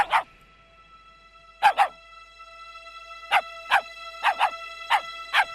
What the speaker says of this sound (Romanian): Un cățeluș într-o ghindă.